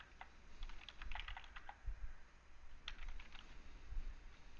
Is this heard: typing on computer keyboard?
yes